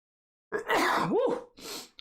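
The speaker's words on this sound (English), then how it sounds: "Oh, sorry, I'm going to sneeze." A single sudden sneeze, preceded by a sharp intake of breath and ending with a short exhaled follow-up, close and loud.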